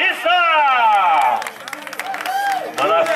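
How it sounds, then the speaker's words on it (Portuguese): Audience clapping and cheering for Dona Cissa at a surprise birthday celebration, a broad, loud wash of applause mixed with crowd noise and a strong voice running over it. "Palmas pra Dona Cissa!"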